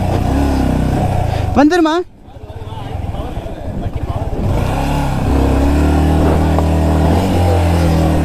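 A Yamaha R15 motorcycle engine labours up a steep off-road track in Idukki, Kerala, its loud strained drone rising and dipping near the microphone while someone talks excitedly over it.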